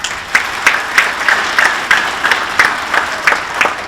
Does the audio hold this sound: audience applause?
yes